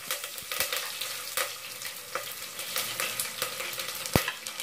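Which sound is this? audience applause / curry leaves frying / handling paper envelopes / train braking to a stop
curry leaves frying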